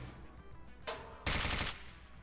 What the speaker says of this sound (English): Turn down the gunfire a little bit.